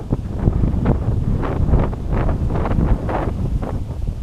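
Gusty wind buffets a microphone outdoors in a park, a loud, rough rumble that surges in repeated bursts and stays close and constant with no talk over it.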